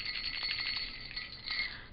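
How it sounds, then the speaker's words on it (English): Jingle bells shake continuously in a steady, bright metallic shimmer with small surges, at a moderate level and with no voices. "I love jingle bells."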